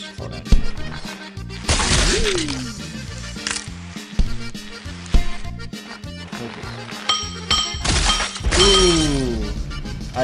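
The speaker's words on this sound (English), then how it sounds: "I didn't know glass exploded." Glass shattering repeatedly in the Happy Wheels video game, loud crashing bursts amid busy game sound effects and falling whistle-like tones, with crunching impacts scattered throughout.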